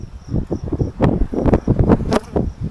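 Honeybees from a young package colony buzzing during a hive inspection, a loud, close, wavering drone with handling noises and rustle as frames are moved.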